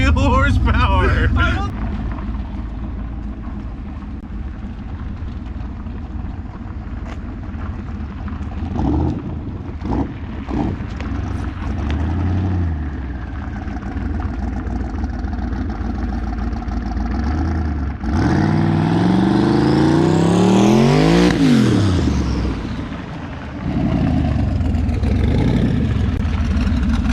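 A twin-turbo sleeper car with about 600 wheel horsepower rolls into a dyno pull, its engine climbing in a loud rising rev near the end, with people talking over the running engine throughout.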